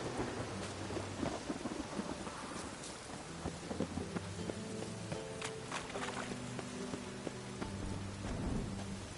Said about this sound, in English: Rain like this would fetch a fortune in Zerrikane.